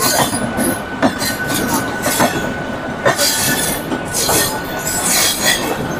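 A train rolls into Howrah station, its steady rumble of wheels and carriages carrying on close by for the whole stretch, with faint clanks and wheel squeals on top and no talking.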